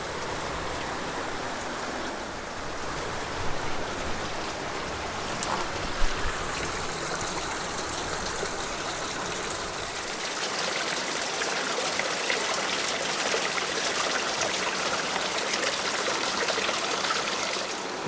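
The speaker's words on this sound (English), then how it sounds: "Looks like we have a little miniature waterfall here, maybe a spring." A small waterfall or spring trickles in a canyon, a steady wash of splashing water that carries on without a break, fairly close and even in level, with no talking.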